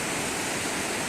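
The Lae Kombih river flowing, a dense steady rushing roar of water with no voices, even and unbroken throughout.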